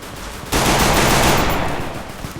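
A minigun in the Free Fire mobile shooter opens up after a quiet half-second, a loud sustained roar of rapid fire that tails off slightly toward the end, with no talk over it.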